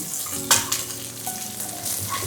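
Fresh green peas drop into hot oil in a pan for upma and sizzle steadily while being stirred, with a sharp hiss at the start and light scraping throughout.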